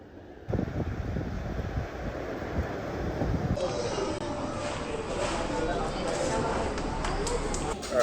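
Ride on a city train in Kuala Lumpur, a steady rumbling rush with wind-like noise that steps up louder partway through and keeps going, with voices faintly mixed in.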